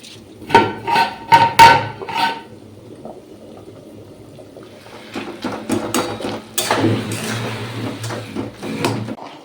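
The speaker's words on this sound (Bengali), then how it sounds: "ওই যে পাইপ দিয়ে এখন সব জলগুলো ভরে নিচ্ছি" Water containers filling from a pipe begin with a few hollow knocks and clunks. These give way to a sustained rushing gush of water pouring in nearby.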